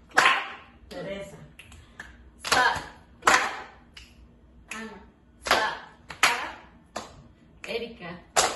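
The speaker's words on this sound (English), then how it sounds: "Slap, clap, click, click" Players of the concentration game keep a slap, clap, click rhythm, sharp percussive hits and finger snaps spaced in a steady pattern while voices call out between beats.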